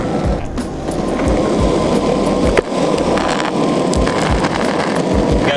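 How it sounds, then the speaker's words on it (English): Motors of an Eflow X2 electric skateboard strain at top speed up a steep hill, a steady loud whirring drone with rough wheel rumble and scattered clicks from the pavement, no voices. "Putting a lot of stress on these motors right now."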